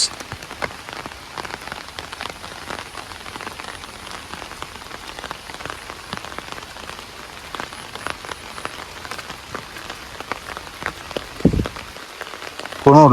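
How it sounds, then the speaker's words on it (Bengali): Heavy rain falls steadily on a village, a dense even patter of drops on surfaces lasting throughout, with a brief thud and a short voice-like sound near the end. "বৃষ্টি তো একটা না একেবারে রাত্র থেকে বৃষ্টি"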